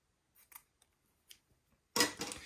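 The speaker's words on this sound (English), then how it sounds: "clip it with my embroidery scissors" Embroidery scissors make a few small, faint snips while trimming entredeaux trim, followed by a louder rustle of handling near the end.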